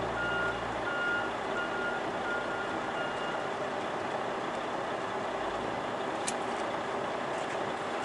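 A crane backing up in a container yard sounds a steady, repeating reversing beep at moderate distance over a low engine rumble, with no talking.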